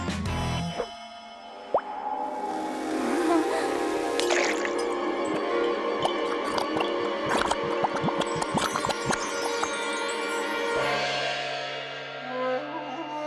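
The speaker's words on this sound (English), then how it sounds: "To activate your instructor, place pill in water and step back." A cartoon pill drops into a glass of water, giving a bright plop followed by a long fizzing, bubbling dissolve over a sustained musical backing, with a few sharp drip and splash accents mid-way.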